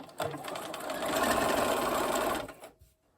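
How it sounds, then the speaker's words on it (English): A sewing machine stitches quilt block sections together in one steady, close whirring run of about two seconds, starting after a brief click and stopping cleanly, with no voices. "I brought it over to my sewing machine, placing that side next to my needle"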